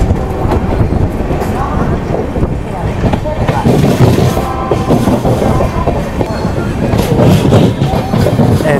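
Sampark Kranti Express pulling out of Kota Junction, a steady loud rumble of wheels and carriage noise with faint rhythmic clatter throughout, under a brief spoken word.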